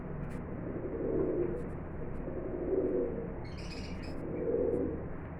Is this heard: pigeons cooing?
yes